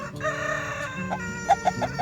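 Backyard chickens cluck close by while a rooster crows, with short sharp clucks bunched near the end over a steady chorus.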